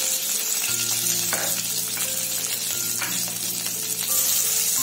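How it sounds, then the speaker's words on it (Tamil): Curry leaves and ginger dropped into hot oil with tempered urad dal for curd rice crackle and sizzle steadily throughout, with light stirring clinks over the continuous frying hiss. "இப்ப நாம கருவேப்பிலும் இஞ்சியும் போட்டுக்கலாம்"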